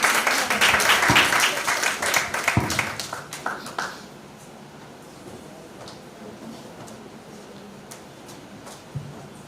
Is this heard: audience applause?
yes